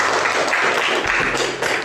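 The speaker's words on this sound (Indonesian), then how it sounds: "tepuk tangan buat kelompok 1" Brief burst of classroom applause for a student group, a dense patter of hands clapping that thins out within about two seconds.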